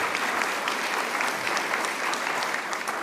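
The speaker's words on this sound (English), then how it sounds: "people always applaud" A book fair audience breaks into steady applause, a sustained, even roar of many hands clapping at moderate distance with no talking over it.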